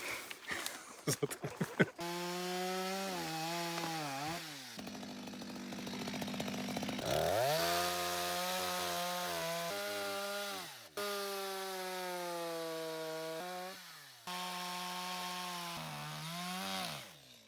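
A chainsaw revving and biting into wood while clearing a Carpathian mountain hiking trail, its engine whine rising and falling through several cuts with brief pauses, loud and close.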